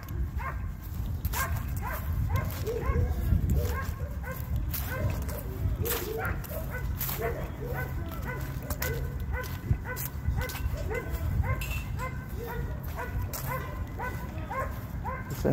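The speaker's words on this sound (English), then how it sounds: "It's a hound dog. There's nothing but a hound dog." A hound dog at a dog park barks repeatedly in short yips and bow-wows, fairly close and steady for many seconds, with people's voices talking faintly in the background.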